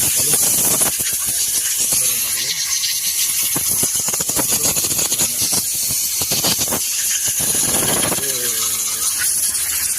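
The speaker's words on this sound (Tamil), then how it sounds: "ஏர் எங்கேருந்து லீக் ஆகுதுன்னு தெரில." Air leaking from a truck's air system at a garage, a continuous loud hiss with intermittent mechanical clatter and a person talking over it.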